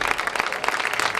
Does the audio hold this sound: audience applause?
yes